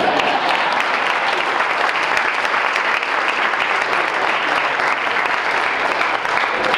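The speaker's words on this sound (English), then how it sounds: "let's clap when I call that" An audience at a journalism and new media awards night applauds loudly and continuously, a dense, steady roar of many hands clapping without pause.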